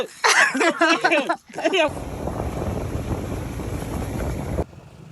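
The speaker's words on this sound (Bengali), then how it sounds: "ঠান্ডার মধ্যে বাইক চালানোর মজাই আলাদা" Motorbike ride in cold, foggy weather, a steady broadband rush of engine and wind noise heard close to the rider after a short burst of talk at the start.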